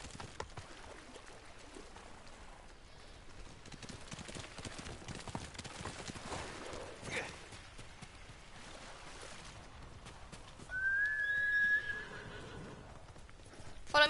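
A horse in a samurai video game whinnies sharply near the end, preceded by steady clip-clopping hooves under ambient game sounds, with no talk over it.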